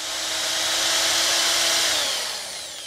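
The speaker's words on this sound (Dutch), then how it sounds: "heel goed boren, dus dat doe ik even" A power drill bores steadily into material for about three seconds, a loud continuous whine that holds even and then eases slightly toward the end, with no talking.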